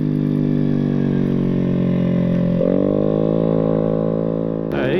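A GY6 50cc 139QMB Maddog scooter engine with a performance CVT kit revs loud and close, holding a steady high-pitched drone, dropping slightly in pitch partway through, then climbing again at the end.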